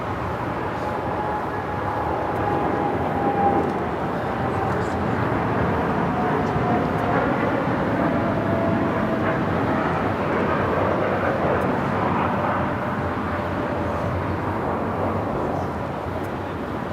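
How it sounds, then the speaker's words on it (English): A United Boeing 787 Dreamliner takes off from an airport's south side, a broad steady jet roar held at moderate distance with a faint whine over rumbling noise. "United Dreamliner taking off here on this south side."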